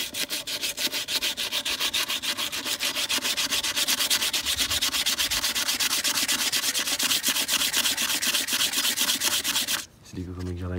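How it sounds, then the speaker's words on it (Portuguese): Coarse sandpaper rubbed by hand over a car wheel, a loud, steady run of rapid back-and-forth scratching strokes for about ten seconds, then stopping abruptly. "vamos pegar a mais grossa aqui, ó. Pra gente lixar esse aqui"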